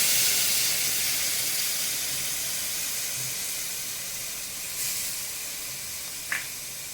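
Water poured into a hot pan of eggplant fish curry bursts into a loud steamy hiss that slowly settles into a softer, steady sizzle, with a faint clink near the end.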